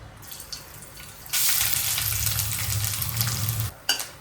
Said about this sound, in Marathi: आता आपण हे खोबरं तळून घेऊया.